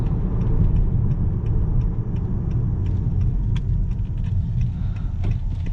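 A 2021 Honda Accord Sport with the 2.0 turbo engine accelerates, giving a steady, loud engine rumble and road noise from inside the cabin, with a few faint clicks on top.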